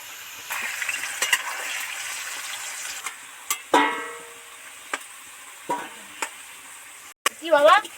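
Meat is stirred in a pot on a clay stove, with scattered scraping knocks of the spoon over a soft sizzle, some louder clatters near the end.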